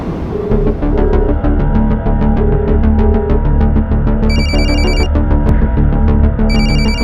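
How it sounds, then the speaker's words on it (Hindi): A telephone bell rings repeatedly in a steady, rapid trill over a loud, continuous background of music or hum. "विनीता फोन क्यों नहीं उठा रही है यार?"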